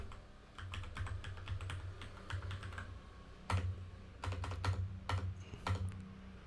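A password being typed on a computer keyboard during a software install on Ubuntu 22.04; close, crisp key clicks come in quick bursts, pause briefly, then resume with a few heavier strokes.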